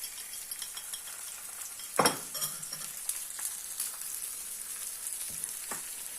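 Two eggs poured into a hot pan for a zucchini flower breakfast, setting off a steady close sizzle with a sharp splash and clink near the start and light utensil taps later.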